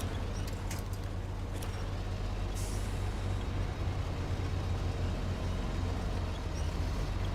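Truck engine in the SnowRunner off-road game grinding steadily at low pitch, with a brief hiss of air brakes early on, continuous and fairly quiet throughout.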